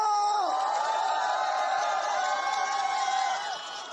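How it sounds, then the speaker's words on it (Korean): A political election rally crowd roars with loud sustained cheering and whooping voices, many people shouting together in a dense swelling mass that dips slightly toward the end. "자, 다시 한번 뜨거운 함성과 박수를 함께 하겠습니다."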